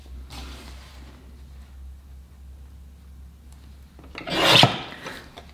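Vinyl film cut to shape by hand, quiet faint rustling at first, then one short, close, loud rasping cut near the end.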